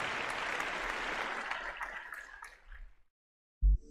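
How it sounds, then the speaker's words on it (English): Applause at a live podcast event: a crowd claps steadily for a few seconds, then the clapping thins and fades out into silence before a brief low thump at the end. "And we'll give a big round of applause for Michelle."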